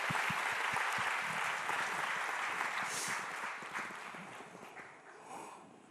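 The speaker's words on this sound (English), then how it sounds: "Let's give her a round of applause." Audience applause at a televised gun-policy forum, a dense wash of clapping that starts strong and gradually thins and fades over six seconds, heard from the room at moderate distance with no one speaking.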